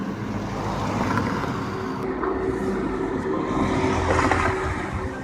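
Steady outdoor traffic rumble with cars passing and an engine rising slightly, continuous and moderately loud, no voices.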